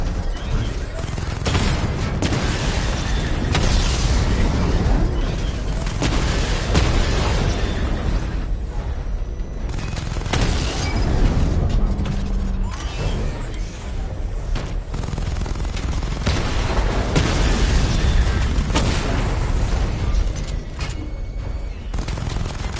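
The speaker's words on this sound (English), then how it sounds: "Charge the missile barrage to level 2 to destroy up to 4 targets at once." Missile barrage explosions in a Batman video game boom and burst continuously at high volume, overlapping bangs and rumbling blasts with a game voice talking over them throughout.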